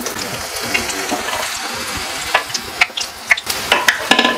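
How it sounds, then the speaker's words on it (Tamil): Puri frying in hot oil, a steady close sizzle and bubbling that grows busier toward the end, with light splashes and clicks of a utensil in the pan. "இப்போ வந்து பூரி போட்டுட்ருக்குறேன்."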